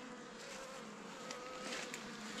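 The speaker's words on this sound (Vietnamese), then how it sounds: "Tổ ong rất đẹp, quần rất khỏe nhá." Wild honeybee colony humming at its nest in spring, a steady, dense buzz of many bees droning continuously at close range, fairly quiet and without voices.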